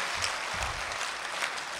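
An audience at a mushaira poetry event in Dubai claps together in loud, dense, continuous applause that fills the whole stretch without a break.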